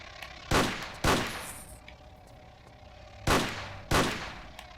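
Four separate gunshots in the Tomb Raider custom level Fading Light 2, loud sharp cracks in two pairs, each fading off, with a quiet game ambience between them.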